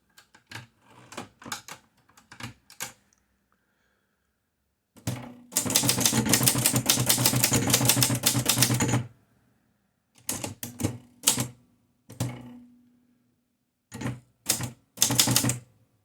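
Torpedo Dynacord S typewriter typing on two sheets of regular paper: bursts of sharp close key strikes, a long dense rapid run in the middle, then short clattering groups separated by pauses.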